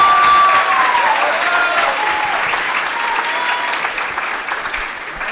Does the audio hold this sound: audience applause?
yes